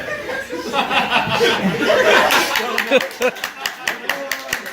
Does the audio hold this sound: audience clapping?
yes